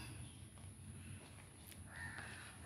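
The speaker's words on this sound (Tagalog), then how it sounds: "may uwak" A crow gives a short caw near the end, faint and somewhat distant, over quiet outdoor ambience in a Japanese cemetery planted with bougainvillea and mango trees.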